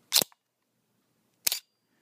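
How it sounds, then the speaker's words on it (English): DSLR still camera shutter firing at a slow setting: a crisp mechanical click opens it, then after roughly a second and a quarter a second click closes it, close and isolated in silence. "when that shutter fires at the setting I have on the camera"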